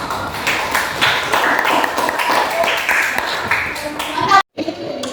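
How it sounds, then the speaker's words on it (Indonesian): Classroom applause from a group of students, a steady patter of clapping lasting several seconds before stopping abruptly, with voices talking over it. "kita beri aplaus."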